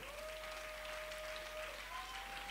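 A church congregation applauds and cheers in a broad, steady wash of clapping, with a sustained tone or voice held over the crowd noise.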